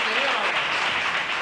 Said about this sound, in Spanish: Fuerte el aplauso para esa mujer.